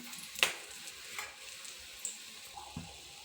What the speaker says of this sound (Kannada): 4 ಒಣಮೆಣಸಿನ್ಕಾಯಿ ಫ್ರೈ ಮಾಡ್ಕೊತೀನಿ